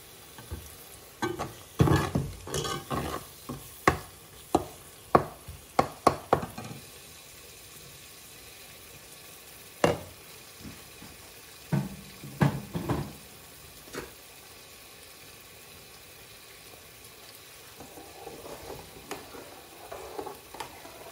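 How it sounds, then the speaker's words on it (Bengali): Spice paste with a splash of water frying in a pan for fried rice with chicken, a close low sizzle broken by repeated sharp scraping stirs in a busy burst, then sparser strokes. "মশলাটা কষানির লাগে আমি এখানে একটু পানি দিলাইছি দেখতে পারা। তো ভালো করে কষানি হোক।"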